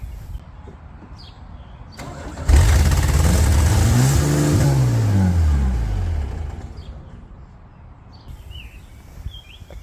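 A Chevy S10 pickup engine cranks and fires, then revs high and holds for several seconds before dropping back to idle, loud and close with birds faint in the background.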